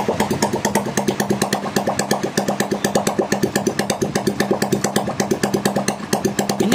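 A rebuilt vehicle engine with most of its internals redone runs on its own nearby, beating out a quick, even, mechanical pulse at a steady pace throughout.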